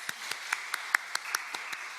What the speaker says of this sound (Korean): 수요금배 찬양팀과 복음 이구역 식구분들을 위해서 축복하고 격려하는 박수 한 번 더 드리도록 하겠습니다